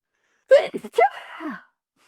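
A single sharp sneeze close by, a quick breathy burst followed by a short voiced trailing sound.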